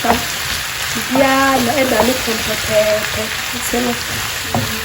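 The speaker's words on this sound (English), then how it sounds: "Vegetable stir fry" Vegetables stir-fry in a hot pan, a loud steady sizzle with stirring scrapes, while a voice talks over it for a few seconds.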